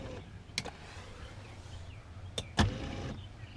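Power adjustable pedals on a 2004 Ford Expedition with a broken gear, heard as a close electric motor whir that runs steadily under two sharp clicks, then a louder clunk near the end as it stops.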